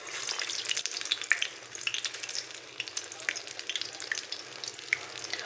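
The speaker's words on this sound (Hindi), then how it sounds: "अब मैं आपके सामने इसको हम घी में इसको फ्राई करते हैं।" A bread sandwich fries in ghee in a pan with a continuous crackling sizzle and dense, irregular pops, close and moderately loud, with no talking.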